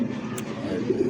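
Racing pigeons, such as Giribaz, Satin and Bombay breeds in a cage, give a short low throaty coo, close and moderately loud over faint background noise.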